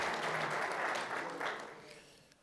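Audience applause for Mayor Hartwell at a Grand Rapids street renaming ceremony, a dense continuous wash of clapping heard from a distance that slowly fades toward the end.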